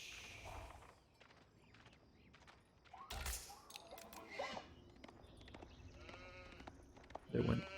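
Sheep in the Age of Empires 4 strategy game bleat a few times over light game ambience, with soft footstep-like clicks and a louder, closer bleat near the end.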